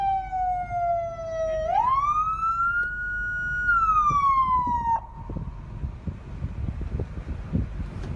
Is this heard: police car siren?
yes